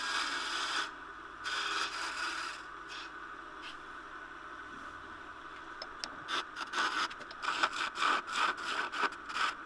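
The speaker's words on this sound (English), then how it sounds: "Now I'm coming in with that skew, and I'm going to build a slight little taper there." A skew chisel cuts a river sheoak handle spinning on a wood lathe, making a steady scraping hiss that pauses briefly and then breaks into a series of rhythmic shaving strokes near the end.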